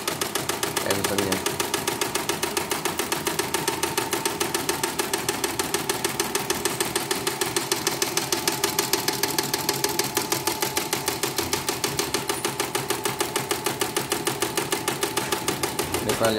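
A CNY embroidery machine on a test run after servicing, running with a fast, steady mechanical needle clatter that repeats evenly and loudly throughout, with a voice speaking briefly underneath.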